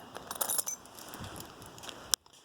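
A ring of keys for a supercharged Fox-body Mustang 5.0L jingles faintly in small bursts, with a few bright metallic clinks and one sharp click near the end.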